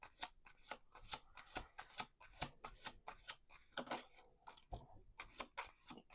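Tarot cards shuffled by hand at close range, a steady run of crisp riffling bursts with brief pauses between them, no voices.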